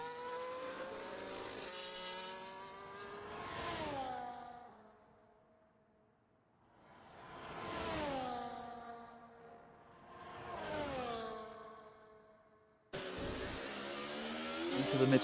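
Ferrari race cars in a sim racing game scream past in repeated waves, engines rising and falling with gear shifts across several passes, then a sustained loud engine drone at the end; no talking.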